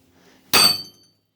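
A single hard hammer blow smashes the center of a rear axle stud on a Chevy Colorado, a loud close metallic crack with a bright ringing tail that fades within half a second.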